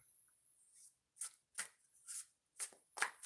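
Tarot cards being shuffled, a soft riffling rustle followed by several sharp, separate bursts of card flicks coming in quick succession, close and alone.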